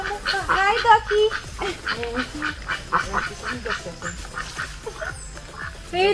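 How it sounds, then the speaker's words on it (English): Several ducks quack repeatedly on a fruit farm in Westmoreland, Jamaica, their calls close and overlapping in an irregular stream with a person talking faintly underneath. "Ducks on the farm."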